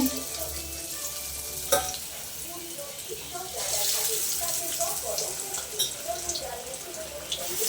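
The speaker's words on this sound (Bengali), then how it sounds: "এবারে এভাবে বেগুনটা ভেজে নেব।" Eggplant frying in a pan, a steady crackling sizzle with a few clinks of stirring, heard under a voice talking.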